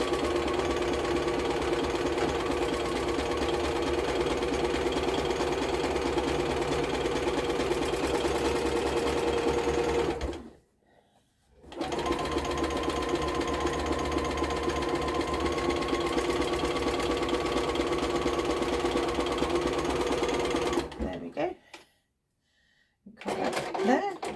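A sewing machine stitches a cushion beside its zipper, running loudly and continuously in two long stretches, each broken off by a short sudden stop.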